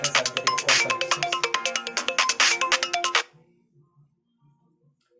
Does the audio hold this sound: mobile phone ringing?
yes